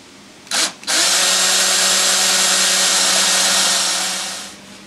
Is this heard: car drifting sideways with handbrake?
no